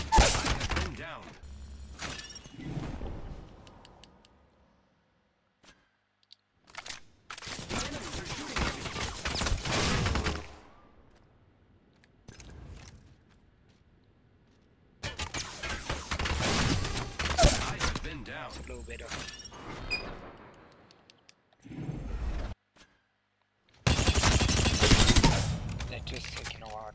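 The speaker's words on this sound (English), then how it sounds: "I am taking fire" Gunfire in the video game Apex Legends comes in loud, dense bursts of rapid shots and impacts, separated by near-silent gaps, with voices talking at points.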